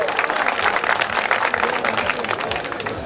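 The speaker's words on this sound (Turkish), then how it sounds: "alkışlıyoruz" A crowd at an outdoor wrestling event breaks into dense, continuous applause that stays loud and even throughout.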